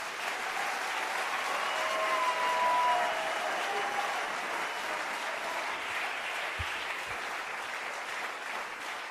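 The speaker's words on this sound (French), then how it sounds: "Acclame Jésus." A church congregation at an evening worship service claps in sustained, even applause that fills the room, with a faint voice briefly audible beneath it.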